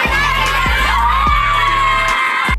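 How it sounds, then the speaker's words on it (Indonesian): Village residents jeer and shout outside a house, a loud, close crowd of overlapping yells and whoops with a few sharp bangs breaking through. "Terdengar juga para warga yang menyoraki dan berteriak karena hal tersebut."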